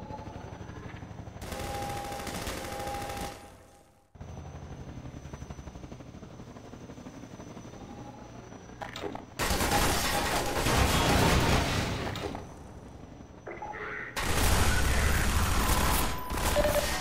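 Bursts of enemy gunfire in Half-Life 2, loud sustained volleys of automatic shots in three blocks separated by quieter stretches of rumbling, mechanical game ambience, with no voices.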